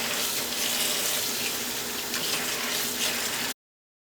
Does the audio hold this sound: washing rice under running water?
yes